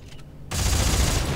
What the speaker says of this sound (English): I've got a freaking chain gun, man.